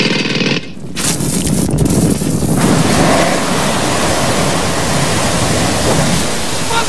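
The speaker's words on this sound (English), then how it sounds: "Busted water main!" Water gushing from a burst water main in an animated film, a loud, dense, continuous rushing hiss that builds within the first few seconds and then holds steady.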